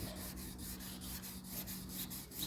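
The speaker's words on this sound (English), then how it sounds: "we use a special mixture that I make up to wet the blade and then sand the blade." A steel knife blade is wet-sanded by hand with a liquid mixture in a custom knife shop, making a quiet, continuous rhythmic rubbing with repeated back-and-forth strokes.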